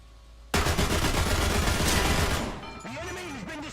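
An M4 tank's cannon fires in War Thunder: a sudden loud blast followed by dense rumbling gunfire and crackle, then a quieter tail with a warbling mechanical whine.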